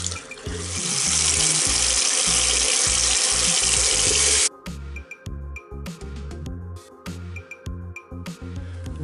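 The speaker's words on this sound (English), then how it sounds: "This sink in the half bath, when you turn it on, if you notice, very quickly starts leaking right out the top." A Delta faucet in a half-bath sink runs with a loud, steady rush of water that leaks out the top, then shuts off abruptly, leaving irregular drips and splashes with no talking.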